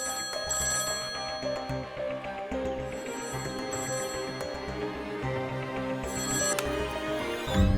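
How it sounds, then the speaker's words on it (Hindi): A landline telephone rings repeatedly in an indoor scene, its bell trilling in steady bursts against a faint background and no speech. "बेल जा रही है।"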